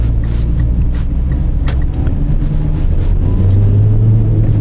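A Mitsubishi ASX crossover accelerating on the road, recorded from inside the cabin, with a loud steady engine and road rumble that climbs in pitch toward the end.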